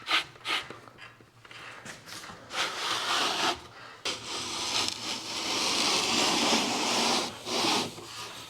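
A wooden cabinet shelf panel slides along a routed groove during cabinet assembly, giving several seconds of steady, close rubbing and rasping scrapes with a few short knocks early on and a longer continuous slide later.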